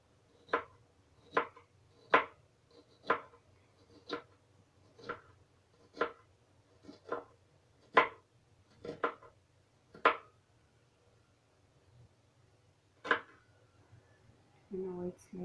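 Knife chopping an onion on a board for a fluffy Spanish omelette, a steady series of about a dozen sharp, close chops in even rhythm, one more after a pause, then some handling clatter at the end; no talking.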